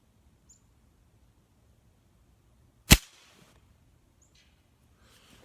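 A single distant sharp impact of a .177 Gamo air rifle pellet striking a pop can roughly 200 yards away, one brief crack standing out from quiet outdoor background, with faint bird chirps on either side.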